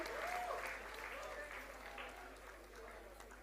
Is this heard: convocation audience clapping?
yes